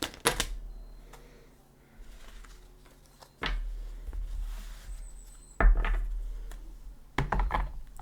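A tarot deck being shuffled gives a series of sharp, close riffling clicks and slaps arriving in separate bursts with quiet gaps between them.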